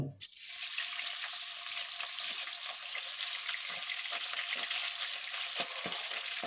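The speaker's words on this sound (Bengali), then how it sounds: "তেলটা গরম হয়ে গেছে, এবার আমি মাছটা দেব ভাজার জন্য।" Pomfret fish sizzles loudly in hot oil after a brief initial burst as it goes into the pan, then settles into a steady, close crackling fry with no talking.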